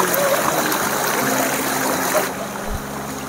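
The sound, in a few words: people wading through stream water in forest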